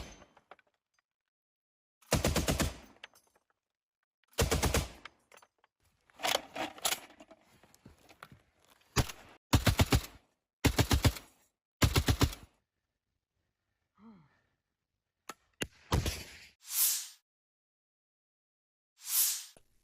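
A T-72B tank crew firing on an enemy fortification: a series of sharp, separate gunfire bursts, some with several quick shots, spaced irregularly across the stretch with quiet gaps between them.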